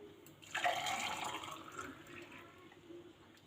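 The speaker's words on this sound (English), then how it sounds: "So I'm going to pour my first juice." Sweet melon juice poured into a container, a brief liquid splash and stream that tapers off, fairly quiet.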